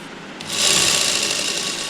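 A sewing machine starts up after a brief pause and runs steadily at speed, stitching a housecoat with a fast, even whir close by.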